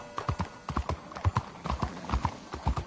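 Horse hooves clip-clop in the video game Red Dead Redemption 2, a close, steady, rhythmic run of clear hoofbeats with nothing else over them.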